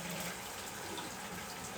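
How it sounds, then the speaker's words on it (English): Hot water runs from a kitchen tap onto a metal spoon in a steady, continuous splashing hiss, close and even throughout, with no talk. "Okay, so I'm just going to get some hot water on my spoon."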